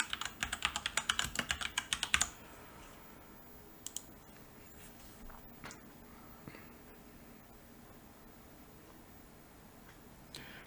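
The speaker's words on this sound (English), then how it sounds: "So we'll just type remove mark." A quick burst of about a dozen crisp computer-keyboard keystrokes typing a short phrase up close, then a near-silent pause broken by a few soft isolated clicks.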